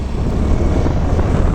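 A Yamaha Gear 125 scooter engine runs with a steady, rough, growling drone that stays loud and close throughout, with no talking over it.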